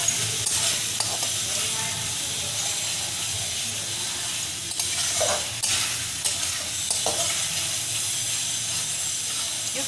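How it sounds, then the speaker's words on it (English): Tamarind sevai mixture being stirred in a pan, with a steady close sizzle and frying hiss throughout and occasional scrapes and knocks of the spoon against the pan. "You have to keep mixing it, otherwise the tamarind will stick to the bottom of the pan."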